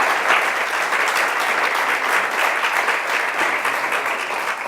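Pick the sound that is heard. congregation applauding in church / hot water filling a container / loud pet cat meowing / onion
congregation applauding in church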